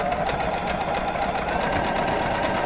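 A Baby Lock Allegro sewing machine stitches at full speed, a steady fast whirring and needle chatter that stays loud and continuous from start to finish with no talk over it.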